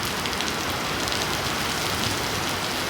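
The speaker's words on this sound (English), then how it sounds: "feel the raining." Steady rain falls outdoors, a dense, continuous hiss of drops hitting surfaces with no pauses and no voices.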